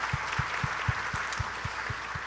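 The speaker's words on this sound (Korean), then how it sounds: "우리 박수 한번 하겠습니다" A congregation at a Sunday church service claps in a steady, even rhythm, about four beats per second, soft and somewhat distant under a hall's ambient hiss.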